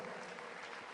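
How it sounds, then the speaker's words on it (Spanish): A church congregation applauding loudly in worship, a dense wash of clapping filling the whole moment at a moderate level. "Levante y déle ese aplauso fuerte a ese Dios"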